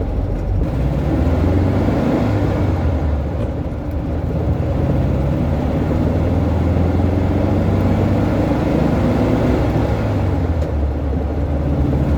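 A 1971 VW Beetle 1600 cruising on the highway, heard from inside as a continuous low engine rumble mixed with broadband road and wind noise, steady and fairly loud throughout.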